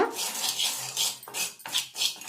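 A metal spoon scrapes and clinks around a bowl, stirring together dry henna and indigo powders for hair dye, in close, rhythmic bursts with no talking.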